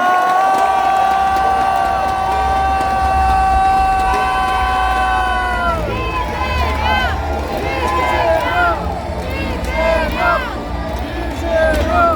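A large crowd cheers and claps loudly at a Democratic Party primary rally in the Kim Dae-jung Convention Center, Gwangju, South Korea, with whistles and shouts rising over a steady roar of applause throughout.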